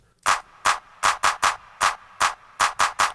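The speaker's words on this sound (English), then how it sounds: "you can actually hear it is a clap" Ten sharp hand claps in an uneven rhythmic pattern, bright and crisp, repeating over about three seconds with no voices.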